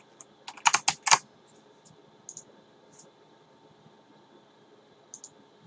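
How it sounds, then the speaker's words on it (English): Keys clatter on a computer keyboard in a quick burst of several clicks, then sparse single taps follow after pauses, close and fairly crisp over a faint fan hiss. "I know you're typing"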